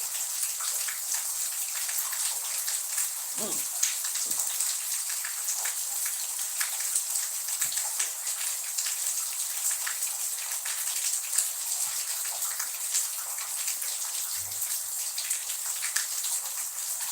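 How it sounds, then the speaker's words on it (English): Heavy rain in Jamaica falling steadily, a dense continuous hiss of drops on surfaces that holds even and loud throughout, with occasional faint low thuds beneath it and no talking. "See, I'm getting so many rain, so much rain"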